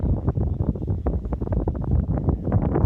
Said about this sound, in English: It's quite a windy peak.